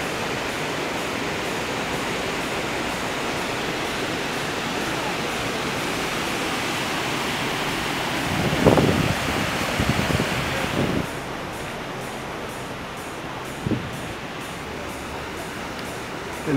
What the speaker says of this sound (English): And the rapids continue.